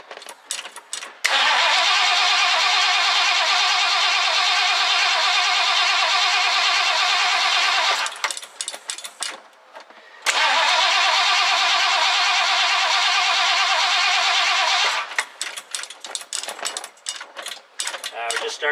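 A 1969 Ford Econoline van engine cranks and catches twice, each time settling into a loud, steady run for several seconds before cutting out into uneven sputtering and clatter.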